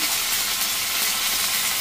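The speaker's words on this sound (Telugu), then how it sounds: "అదే కళాయిలో ఆయిల్ వేసి అందులో ఆవాలు, మినపప్పు, జీర, కరివేపాకు" Mustard seeds, urad dal, cumin and curry leaves sizzling in hot oil in a kadai, a steady bright hiss and crackle with no pauses.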